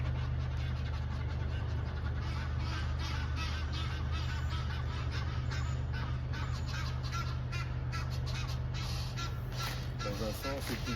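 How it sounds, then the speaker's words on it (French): Wild geese honking and calling outdoors in a continuous, busy chorus, with a low steady hum running underneath throughout. "avec le bruit des oies sauvages"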